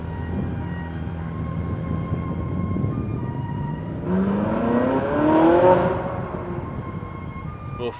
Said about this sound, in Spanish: viene un Ferrari 458 Spider de este lado